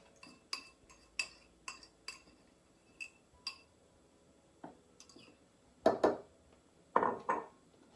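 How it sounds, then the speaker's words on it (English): Metal spoon stirring an egg mixture into flour for a soft ginger biscuit dough, giving a series of light clinks and scrapes against the bowl, sparse at first and then two louder bursts of scraping near the end, with no talk. "stir in the eggy mixture into the flour with a metal spoon until it makes a soft dough"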